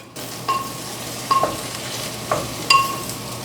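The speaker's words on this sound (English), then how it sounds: "It's beginning to sizzle." Garlic frying in a pan with mushrooms, a steady sizzle running throughout, broken by a few sharp clinks and stirring scrapes at regular intervals.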